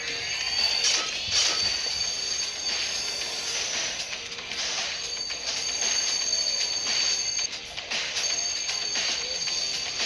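A roller coaster train rattles along its track through a pyramid ride with a constant mechanical clatter and a high metallic whine, steady and fairly close.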